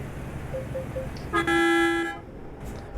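A truck horn in Euro Truck Simulator 2 gives one loud, sustained blast of under a second. It follows a few faint short beeps and sits over a low engine rumble.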